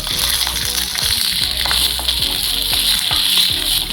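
Small onions fry in a pan for a Kerala-style chammanthi: a loud, close, continuous sizzle with frequent light clicks and stirring scrapes running through it, and no voices.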